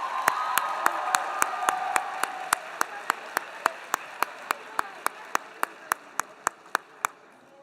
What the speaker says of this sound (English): Can we get another big round of applause for all of our GA delegates and staff?